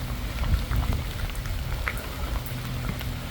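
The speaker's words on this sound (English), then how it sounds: "It's raining." Rain falls steadily with a dense, close patter and scattered louder drops, continuous and alone without talk.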